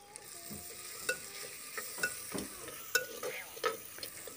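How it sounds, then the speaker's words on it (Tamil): Curry leaves are sautéed in a pan for a village-style keerai kuzhambu, heard as a quiet sizzle beneath a series of distinct spoon scrapes and taps coming roughly every second, close by and without talk. "1 கருவேப்பிலையும் சேர்த்து நல்லா வதக்கி விடுங்க"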